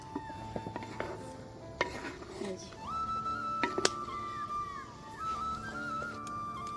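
Clattering metal pot handling as a pot of boiled vegetables is lifted off a stove, several sharp clanks and scrapes among kitchen hiss and a faint tone.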